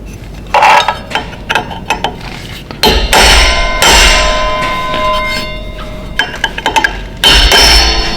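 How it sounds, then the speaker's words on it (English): A hammer smacks a metal part to loosen it, landing a run of loud, irregular clanging blows separated by short pauses, with brief metallic rattles between them. "I think I can just smack it a couple more times and then wiggle that thing off"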